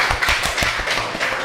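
Students in a classroom clap together for a short moment, a loose, uneven patter of hand claps close by with no voices over it.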